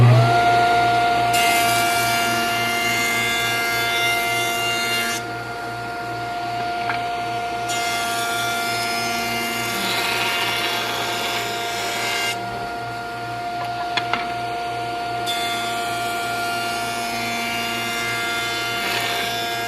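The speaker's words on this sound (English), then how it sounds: "I will do that on the joiner and then we'll take a look at it." A jointer planes a board for a night stand, its motor droning steadily while the cutterhead bites in several loud passes of a few seconds each, close and continuous with no talking.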